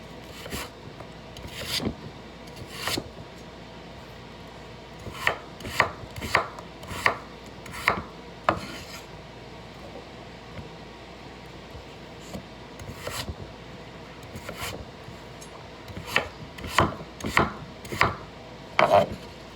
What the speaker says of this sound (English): come back and finish chopping mushrooms and spinach